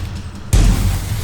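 A firework goes off outdoors near a pond, a single sudden boom followed by a crackling, rumbling tail, loud and close.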